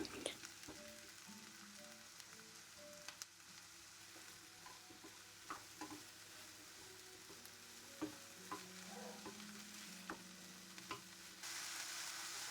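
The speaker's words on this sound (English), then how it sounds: "adding diced green peppers, diced mushrooms, and saute that for 5 minutes" Onions, diced green peppers and mushrooms sauteing in olive oil for a pizza topping, a faint, steady sizzle with occasional utensil clicks and low background hum.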